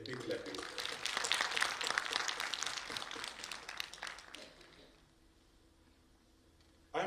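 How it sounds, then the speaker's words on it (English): Audience at an academic conference on sustainable development applauding warmly for about five seconds, a dense, even patter that thins out and fades to near silence before a brief sharp noise at the end. "So a big clapping"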